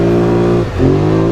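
A Polaris Sportsman 1000 ATV engine revving hard on a speed run, loud and close, its pitch rising, briefly dipping as the gear shifts, then climbing again.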